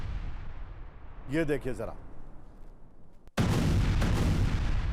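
Air strike explosions from Gaza news footage: a deep rumbling blast fills the background, then a sudden loud boom erupts and roars on, while a news presenter talks over the early part.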